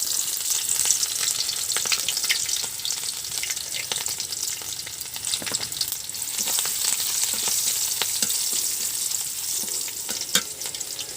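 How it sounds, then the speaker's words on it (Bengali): Onion and cumin seeds fry in hot mustard oil in a clay pot on a clay stove, a loud continuous sizzle dotted with sharp crackles and pops, close and without talk. "সরষের তেল দিয়ে দিছি, তেলটা গরম হয়েছে, দিয়ে দেবো কয়েকটা জিরে"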